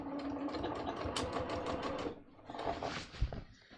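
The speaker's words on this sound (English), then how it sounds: "I'm going to stitch this in 2 places just to really secure it" A sewing machine stitches twill tape onto a pair of pants, giving a rapid, close mechanical rattle for about two seconds. A brief pause follows, then a second shorter burst of stitching with a few handling knocks.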